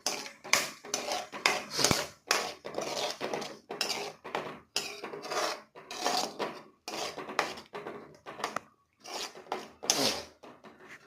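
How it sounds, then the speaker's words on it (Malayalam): A masala mixture is stirred in a cooking pan, with repeated scraping and clattering strokes in an uneven rhythm. The sound is close and fairly loud, with no talking. "എന്നിട്ട് നമ്മൾ മസാല നല്ലോണം ഇങ്ങനെ ഇളക്കി കൊടുക്കും."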